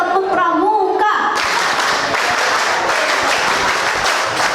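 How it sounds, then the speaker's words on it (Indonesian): After a brief spoken prompt, a seminar audience in Indonesia breaks into rhythmic scout-style group clapping, loud and close, continuing steadily for several seconds. "2 kali tepuk pramuka"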